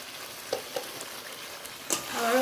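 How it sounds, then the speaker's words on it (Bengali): Duck meat sautéing in a pan over a village clay stove, with a few sharp spatula scrapes and clicks over a steady low sizzle that swells louder near the end. "এবার কষাই এটা ভালো করে"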